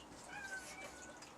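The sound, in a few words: cat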